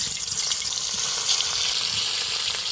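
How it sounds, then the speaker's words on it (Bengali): Pieces of catla fish fry in hot oil in a wok, a loud, bright, continuous crackling sizzle heard up close with no voices. "কড়াইতে তেল গরম হয়ে গেছে, টকের জন্য কাতলা মাছগুলো লাল লাল করে ভেজে নিব"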